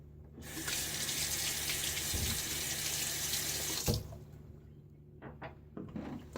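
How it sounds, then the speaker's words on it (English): Tap water gushes loudly into a sink for a final rinse after shaving, a steady rushing stream that cuts off sharply, followed by quieter splashes and drips as the face is rinsed. "We'll do final rinse,"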